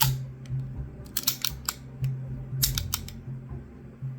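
Metallic clicks and snaps from an airsoft WE-Tech AKM rifle during a function test, several short sharp clacks in two quick clusters, close and crisp over a low background hum.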